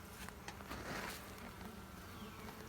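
A steady, dense insect buzz from many honey bees in a newly occupied hive fills the clip, a continuous hum with no voices.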